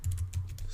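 Several quick keystrokes on a computer keyboard, a short burst of close, moderately loud tapping with a low background hum.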